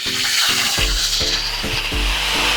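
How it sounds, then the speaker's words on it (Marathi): Ginger paste and green chillies sizzle and crackle in hot oil in a nonstick kadai, loud and close, with repeated rhythmic stirring scrapes over the steady frying hiss. "तर आपली अद्रक आणि मिरची आहे ना तेलात मस्त भाजून घेतली आहे"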